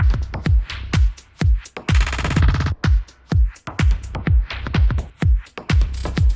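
An electronic audio loop runs through Ableton's bit repeater effect, with punchy rhythmic kick-like hits and a stuttering, rapidly repeated glitchy burst in the middle, loud and continuous.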